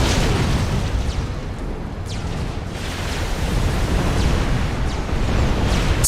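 A Tech 2 land HQ blowing up in Supreme Commander: Forged Alliance Forever, a continuous loud wash of explosive rumble and noisy bursts with several sharper blasts layered over the din.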